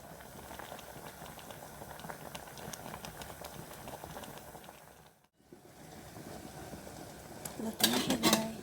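Mulberry leaves boil in a pot of water for a drink, giving a steady, quiet bubbling simmer. A brief dropout comes near the middle, and a few sharp clinks of a utensil against the pot follow near the end.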